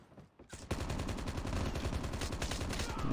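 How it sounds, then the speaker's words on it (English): Rapid automatic gunfire from the Call of Duty: Mobile video game, a dense continuous burst of shots that starts abruptly after a brief quiet moment and stays loud and sustained throughout. "Someone shoot me from behind."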